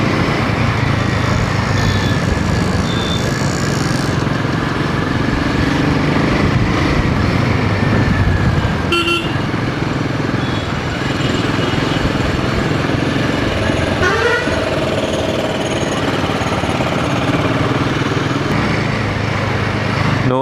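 Himalayan 450 motorcycle riding through heavy traffic, a steady engine drone under dense road noise, with a short horn-like toot partway through and no talking.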